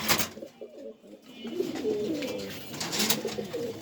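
Pigeons coo steadily at a pigeon farm in Mirpur, Dhaka, where breeding pairs such as Blue Shartings, English Nuns and Khulna Lal Dom sit in coops; several overlapping low, throaty coos repeat close by with a faint background hiss.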